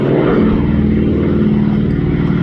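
A Boeing Stearman biplane, modified for wing-walking, flies at a seaside airshow. Its radial engine and propeller give a loud, steady droning roar close by that fills the whole stretch without any voices.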